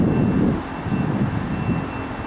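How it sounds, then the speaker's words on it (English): A train pulling into a station, a broad low rumble that swells at first and then settles into a steady roar, with no voices over it. "Your train's coming."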